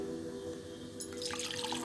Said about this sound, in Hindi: और अब हम इसमें ऐड कर रहे हैं ये दो ग्लास पानी